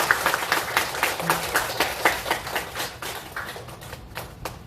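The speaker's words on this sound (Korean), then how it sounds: "크게 박수." Buddhist temple congregation applauding at an all-night Lotus Sutra chanting service, a steady patter of many hands clapping in a rhythmic, slightly uneven pulse that gradually fades.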